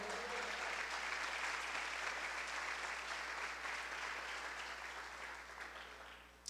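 A church congregation applauds during a sermon, producing a broad, even roar of clapping over a steady low hum that slowly thins out before a final sharp sound.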